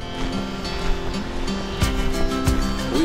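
Sea waves washing against a wharf at high tide on a cloudy day, a steady broadband surf wash with a few louder surges, no talking.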